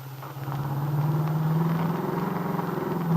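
A car driving along a highway in an old radio drama hums with a steady low engine drone that gradually swells and rumbles, heard alone without any voices.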